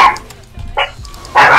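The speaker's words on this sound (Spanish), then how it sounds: "Ese perro me ha puesto los nervios" A dog barks in short bursts during a League of Legends match, a few sharp yaps spaced across the moment, mixed with faint game sounds and a bit of background voice.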